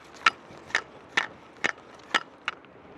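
Inner rods clack inside the telescopic handle of a lightweight fishing landing net as it is tilted back and forth, six short sharp rattles spaced evenly, close and fairly quiet, with no talk.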